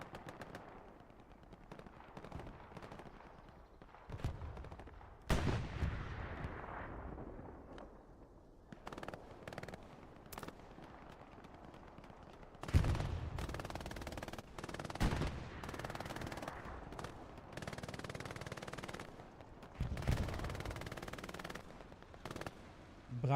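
Machine gun fire in the World War II shooter Hell Let Loose comes in repeated bursts at a middle distance, loud at times, with heavy rumbling impacts and battle noise between the bursts.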